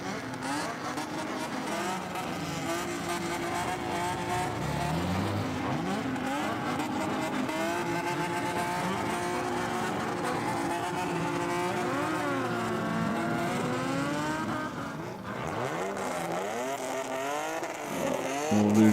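Modified Japanese cars at a New Year meet parade, engines revving and roaring loudly and continuously up close, with rising and falling throttle blips and exhaust drone from several vehicles passing.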